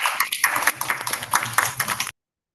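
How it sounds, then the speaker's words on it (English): People at a community college event clap in a brief, close round of applause that stops abruptly after about two seconds. "a well-deserved round of applause"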